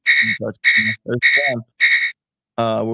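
A harsh electronic buzzer sounds in four repeated bursts, loud and close, with short gaps between them.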